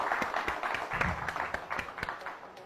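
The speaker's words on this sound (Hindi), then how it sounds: "जोरदार तालियां" Audience clapping on a farming show after a woman contestant's score is announced, a lively stretch of overlapping claps with distinct sharp hand strikes throughout, moderately loud and without speech.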